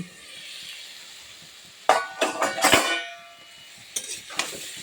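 Potatoes frying in a wok give a soft, steady sizzle, broken by a few sharp clattering stirs and scrapes near the middle and again toward the end.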